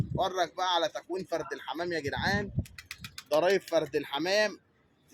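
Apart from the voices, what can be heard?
No everyday noise stands out behind the speech.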